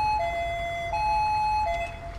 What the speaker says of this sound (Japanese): おーし、救急車通ります。